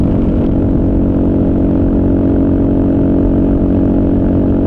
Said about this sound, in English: the KLR will cruise at 85, no problem